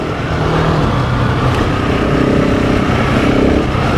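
A Husqvarna 701 or GasGas 700 dual-sport motorcycle revs loudly and close up, its engine note climbing and holding in steady strong pulses with no talk over it.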